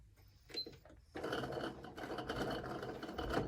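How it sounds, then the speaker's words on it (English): Sewing machine stitching a locking stitch back and forth on a fabric ornament, a brief mechanical whir at first, then a steady close rattling hum of the needle running for several seconds. "And we'll do our locking stitch there."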